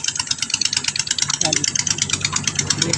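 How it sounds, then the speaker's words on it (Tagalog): A large motor pump running in a farm field, drawing water to irrigate pechay crops, with a steady, rhythmic chugging that stays close and fairly loud throughout. "malaki ang motor ng ng pump, motor pump na pang after stakan ng mga tubig na pandilig sa taniman ng mga pitsay."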